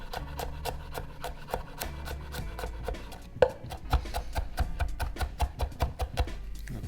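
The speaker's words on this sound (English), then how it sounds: "They're gonna get added together, both the garlic and ginger, so I'm just gonna roughly chop them" Garlic and ginger are roughly chopped with a knife on a cutting board: a quick, even run of close, crisp knocks, about three a second, that speeds up slightly partway through.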